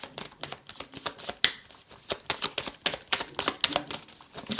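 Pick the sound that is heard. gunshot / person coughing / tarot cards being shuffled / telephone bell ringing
tarot cards being shuffled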